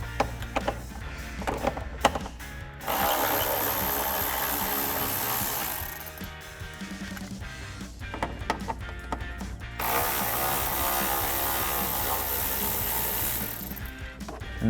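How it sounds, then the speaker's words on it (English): An 8mm socket on a hand ratchet loosens bolts on a Jeep Wrangler JL. Two long bursts of fast clicking can be heard, each lasting several seconds. The first comes after a few isolated clicks, and a short pause with lighter handling sounds separates the two. "So first we can remove these 2 8mm."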